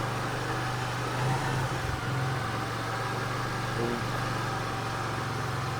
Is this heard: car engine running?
yes